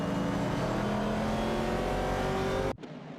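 Video game race cars, a Dodge Challenger and a Ford Mustang Boss battling for position, give a loud continuous engine drone with a steady pitch that cuts off abruptly near the end.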